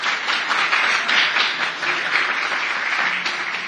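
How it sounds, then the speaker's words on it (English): Sustained applause from a large audience at a COP 28 climate conference session, dense steady clapping filling the room at full volume with no speech over it. "So a huge round of applause for that."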